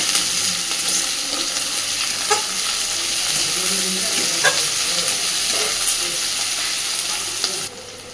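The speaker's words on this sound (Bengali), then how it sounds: "খানিকটা পেঁয়াজ কুচি আর কয়েকটা চেরা কাঁচা লঙ্কা সুন্দরভাবে সব কিছুকে একটু ভেজে নেব" Chopped onions and slit green chillies fry steadily in a pan for an ol (elephant foot yam) stalk dish, a dense continuous sizzle with occasional soft stirring clicks, close and even throughout.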